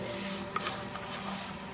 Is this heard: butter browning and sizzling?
yes